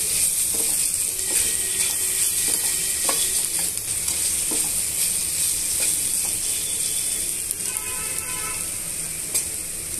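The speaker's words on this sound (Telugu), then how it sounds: "అల్లం వెల్లుల్లి పేస్ట్ని యాడ్ చేసుకున్న తర్వాత ఇవన్నీ బాగా మిక్స్ చేసుకొని మగ్గనివ్వాలండి" Ginger garlic paste frying in a pan for a Telugu fry dish, with steady sizzling and repeated scraping and stirring of a spatula against the pan, close and continuous, no talking.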